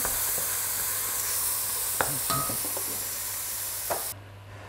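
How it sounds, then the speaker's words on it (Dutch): Vegetables sizzle steadily in a frying pan as they are stirred, with a few soft scrapes and knocks of a utensil against the pan over the constant hiss before it suddenly quiets. "Door dus een keertje roeren."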